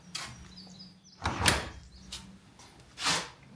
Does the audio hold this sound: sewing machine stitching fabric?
no